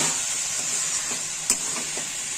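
Cabbage ghonto with katla fish head being stirred in a pan: steady loud sizzling hiss with a few scraping strokes of the spoon, one sharp clink partway through.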